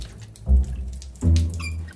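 Water gushes from a leaking pipe in bursts, two loud surges of running flow with a tap-like hiss, ending in a squeak as it is shut off.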